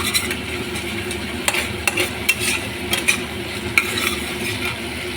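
Paneer butter masala gravy frying in oil in a pan while it is stirred, a steady close sizzle with intermittent utensil scrapes and taps, no talking.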